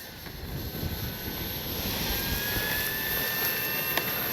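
A CNHL Super Tucano RC airplane flies a landing circuit in crosswind, its motor whining steadily at moderate distance with a faint rising tone toward the end.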